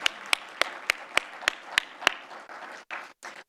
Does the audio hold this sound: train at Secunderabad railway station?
no